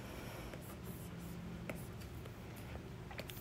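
Stylus writing on a tablet in Procreate while hand-lettering a word, a soft continuous scratchy rubbing with faint taps, steady and close, without speech.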